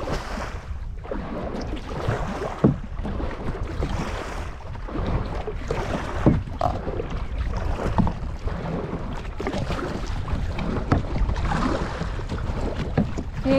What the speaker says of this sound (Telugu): చూసారా ఎంత ఫాస్ట్గా వెళ్ళిపోతుందో బోటు